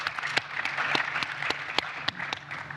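Audience applause at a leadership dialogue panel, a steady patter of many hands clapping in a hall, moderately loud and sustained for a few seconds, with a few sharper individual claps standing out.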